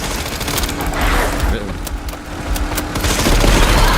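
Gunfire in Resident Evil 9 rattles in rapid bursts with booming impacts, loud and close, while a player talks over the action.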